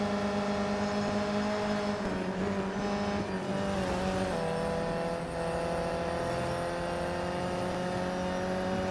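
Race cars roar continuously in the mobile racing game Real Racing 3, a loud sustained engine drone with shifting pitch and faint tire noise, no talking.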